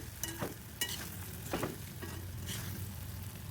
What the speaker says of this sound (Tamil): இப்போ எல்லாத்தையும் நல்லா வதக்குங்க